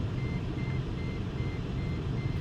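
Repeated evenly spaced reversing beeps from a truck's backup alarm, ringing out over a constant heavy engine drone without pause.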